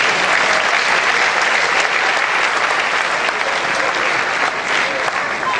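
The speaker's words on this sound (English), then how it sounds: "Please, a round of applause for him." An audience at an inaugural lecture on maxillofacial surgery applauds, a loud, thick wash of clapping sustained evenly for almost six seconds without a pause.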